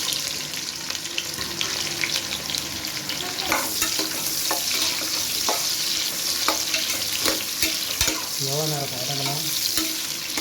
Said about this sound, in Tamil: வெட்டி வச்சுருக்க வெங்காயத்தை ஃபுல்லாக உள்ளே சேர்த்துக்கோங்க